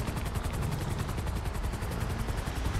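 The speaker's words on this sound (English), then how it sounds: "This helicopter should be coming down now." A helicopter in the video game GTA 5 hovers nearby with a loud, steady rotor chop that pulses rapidly and evenly throughout.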